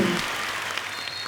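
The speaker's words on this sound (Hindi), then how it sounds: "तालियां जोरदार होनी चाहिए" Studio audience on a Hindi comedy talk show applauding a guest's arrival, a short, dense burst of clapping that fills the room and holds steady throughout.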